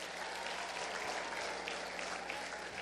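Church congregation applauding the Lord during a sermon, a faint, even wash of many hands clapping, distant and continuous throughout.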